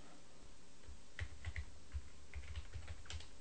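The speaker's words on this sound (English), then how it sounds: "and I'll type gradient here." Keys clacking on a computer keyboard, a short burst of light, close clicks in an uneven rhythm as a word is entered, set against a quiet room hiss.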